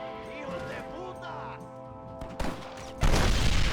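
A voice speaks over Red Dead Redemption game sounds, then a heavy, booming cannon blast erupts near the end and keeps rumbling loudly.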